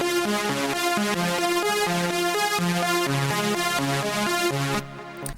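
A bright synth arpeggio steps down and then back up in quick, even notes, playing alone and cutting off just before the end.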